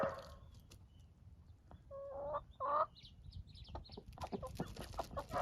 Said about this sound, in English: somebody's challenging the rooster